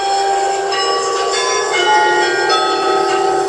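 Village church bells ring out loud and close in a sustained, overlapping peal with bright resonant tones that hang without a break.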